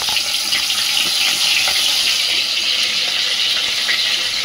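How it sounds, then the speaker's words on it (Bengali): Katla fish in hot oil in a wok makes a loud, steady, hissing sizzle that holds without a break. "কড়াইতে তেল দিলাম। তেলটা গরম হয়ে গেলে মাছটা আমি দেবো, ছেড়ে দিলাম।"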